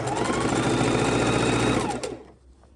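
A sewing machine stitches quilt fabric scraps in one steady, loud, fast run for about two seconds, then stops and falls quiet.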